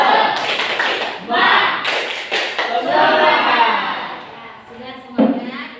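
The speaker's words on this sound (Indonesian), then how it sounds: "Kita tepuk semangat dulu biar semangat lagi." A class of students joins in a rhythmic spirit clap, crisp bursts of group clapping in a short patterned rhythm mixed with children's chanting voices, ending with a final clap.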